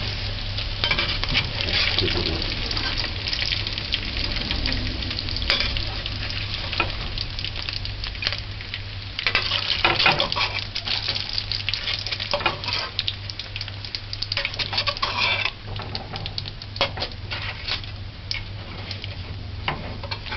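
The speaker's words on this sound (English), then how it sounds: "I'm gonna fry the French fries." French fries frying in hot oil at home, a dense continuous sizzle and crackle with scattered pops, steady and close throughout with no talking.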